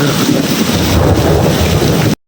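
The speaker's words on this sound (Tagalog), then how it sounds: "lakas ng kulog" Heavy rain pours steadily during a strong thunderstorm with floodwater, a deep rolling rumble of thunder underneath, loud and continuous until it cuts off abruptly.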